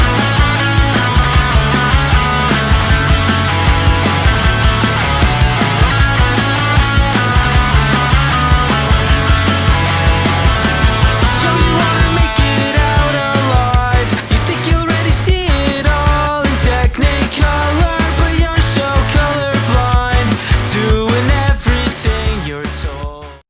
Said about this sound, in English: I'm starting to hear what I think a finished guitar tone on a record sounds like